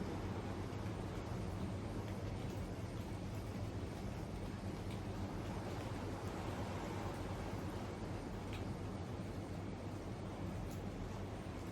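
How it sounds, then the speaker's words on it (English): Steady broadband wash of ocean surf rolling in while it rains, continuous and fairly close, with no voices and no clear breaks between waves. "I'm also hearing the sound of the waves."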